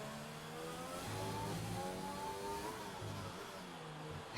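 Racing car engine in a racing video game finishing a lap at the Singapore GP, a steady high-revving mid-pitched drone with gear-shift steps and rising revs, loud and continuous throughout.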